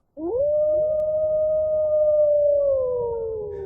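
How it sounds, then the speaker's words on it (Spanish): A wild dog howls in one long, sustained, slightly wavering note that rises at the start and slowly falls, loud and close, heard alone over a faint low rumble. "Ni un sonido rompía el silencio, salvo el aullido de un perro salvaje"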